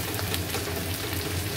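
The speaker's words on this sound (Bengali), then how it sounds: "পেঁয়াজটা খুব ভালো করে ভাজবো।" Onions frying in a pan, a steady close sizzle and crackle of hot oil without pause.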